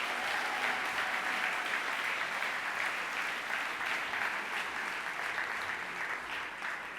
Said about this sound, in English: Can we give one more big round of applause for all of our award winners today?